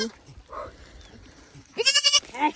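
Goats bleat loudly several times in quick succession in a grazing area, near and clear, after a quieter stretch of faint outdoor background.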